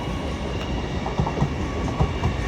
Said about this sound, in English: Yep, with your 1415 LNER Azuma service from London King's Cross to Leeds